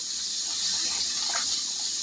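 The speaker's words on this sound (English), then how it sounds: "We're going to rinse these off a little bit" Water runs steadily from a kitchen sink faucet while food is rinsed under it, a close, continuous hiss with no talking.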